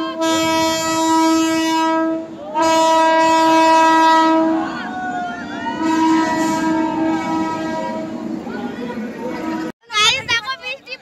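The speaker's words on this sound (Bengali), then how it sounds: "ট্রেন আসছে, বাড়ি যাব।" A train pulls into a station during rain, its loud horn blaring in long sustained blasts near at hand, then rumbling and screeching as it slows, with people's voices mixed in toward the end.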